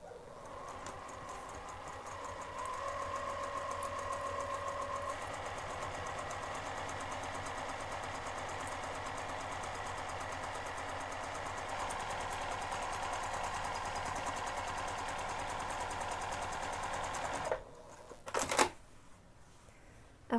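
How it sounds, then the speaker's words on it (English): Sewing machine running steadily while stitching a bag seam, a continuous close mechanical whir that changes pitch partway through, then stops with a few clicks near the end. "make sure you have it set at two and a half millimeters for the sewing part"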